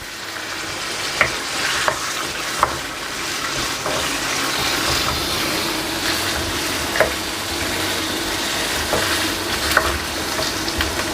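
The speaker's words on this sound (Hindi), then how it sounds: "इसको मैं भूनूंगा जब तक ये ब्राउन हो जाए।" Mutton browns in oil in a karahi with a continuous loud frying hiss, broken by occasional sharp knocks of a spoon against the pan as it is stirred.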